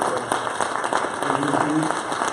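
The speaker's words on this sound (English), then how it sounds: "give these gentlemen another round of applause" Applause from an audience at a Virginia governor candidates' debate, fairly dense clapping that runs throughout while a voice speaks over it.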